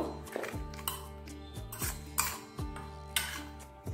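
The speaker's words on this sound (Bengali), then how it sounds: "এবার এই লবণ আর হলুদটা মাছের গায়ে একটু মাখিয়ে নেব।" Salt and turmeric being rubbed by hand onto a rohu fish head in a metal bowl, heard as a run of close clinks and scrapes against the vessel, with a faint steady hum beneath.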